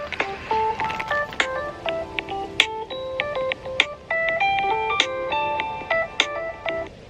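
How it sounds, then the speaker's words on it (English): A cell phone ringtone plays a bright, melodic electronic tune of rising and falling beeping tones, looping steadily and clearly in the foreground with no talk over it. "hold on, cell phone"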